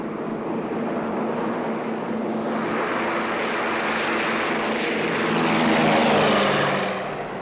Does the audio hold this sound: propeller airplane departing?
yes